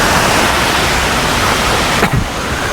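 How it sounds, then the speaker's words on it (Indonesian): A river fed by the Curug Luhur waterfall in Cibinong, South Cianjur, rushes as a loud, steady, broadband roar of flowing water close by, with no voices. "Jadi di samping ini sungai, teman-teman, yang mengalir dari Curug Luhur"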